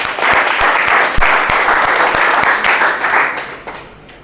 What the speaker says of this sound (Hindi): तो मैं चाहूँगी इस कंपनी के लिए ज़ोरदार ताली।